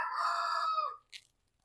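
A rooster crows once, loud and close, the call trailing off, followed by a brief faint squawk.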